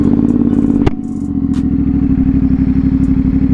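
A CFMOTO 450SS motorcycle engine cranks and fires with a sharp catch near the start, then settles into a steady, rapid, rhythmic idle pulse that runs on alone, close and fairly loud.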